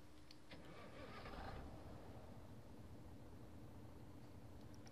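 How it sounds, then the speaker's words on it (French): A truck engine starting in Euro Truck Simulator 2, a simulated cranking burst that settles into a low steady idle rumble, heard alone without talk. "écoutez-moi ce bruit de camion"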